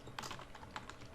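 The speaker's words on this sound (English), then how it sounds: "So let me just type essay on COVID-19 as it's trending." Quick keystrokes on a computer keyboard while entering an essay question into an online quiz form, a short burst of several close, crisp taps.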